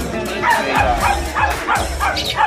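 Shih Tzu Pomeranian crossbreed puppies at a pet market give a quick run of high yips and small barks, several bursts close together and loud, with faint whimpering between them.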